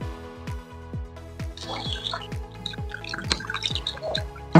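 Water poured into a pot of rice while making kadi rice, with repeated gurgling splashes and drips arriving in uneven bursts, close by.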